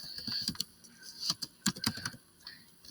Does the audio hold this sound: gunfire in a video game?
no